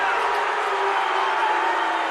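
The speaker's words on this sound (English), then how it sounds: "The crowd here going bazonkers a bit." A high school basketball crowd at a New Albany versus Floyd Central game roars steadily after a technical foul, a dense, sustained wash of cheering and shouting that holds at full volume throughout.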